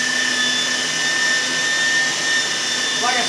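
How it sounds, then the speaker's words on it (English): A cheap, slow electric meat grinder works through venison for sausage, giving off a steady, loud motor whine with a high tonal hum that stays even throughout. "it's just a real cheap, inexpensive grinder. It's slow, but it does the job"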